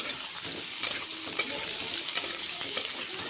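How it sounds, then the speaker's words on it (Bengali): Potatoes frying in hot oil with bay leaf and cumin in a kadai, a close bubbling sizzle with several sharp spatula clinks and scrapes against the pan, no talk. "আলুটা একটু ভাজা করে নিই।"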